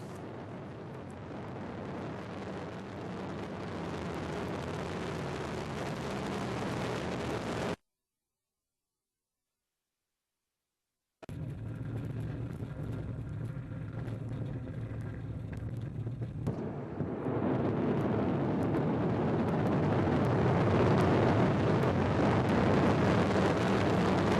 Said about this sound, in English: Watching the launcher take off like that.